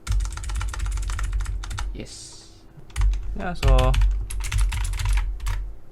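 Fingers tap out bursts of quick clicks on an AULA S2016 computer keyboard, close and crisp, with a brief pause and a short spoken interjection midway before the typing resumes.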